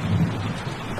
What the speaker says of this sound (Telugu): వర్షం భయంకరంగా పడింది